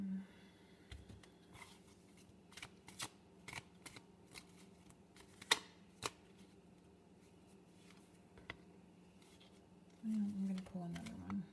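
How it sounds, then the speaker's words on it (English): Story cards for a card reading being shuffled, a quiet series of soft papery riffles and taps over low room hum, with a denser burst of handling near the end. "let's shuffle the story cards for the reading itself"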